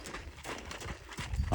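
A mare's hooves thud and clop on the footing of a round pen in a steady, close, moderately loud rhythm, with a louder scuff toward the end and no talking over it.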